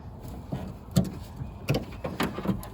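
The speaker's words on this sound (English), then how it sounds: "we need to remove the electrical connector off of our window motor using a small pick" A small pick depresses the tab and unplugs the electrical connector from the rear window motor of a 2007-2013 Tahoe, Yukon or Suburban, giving a series of faint close plastic clicks and scrapes spaced irregularly.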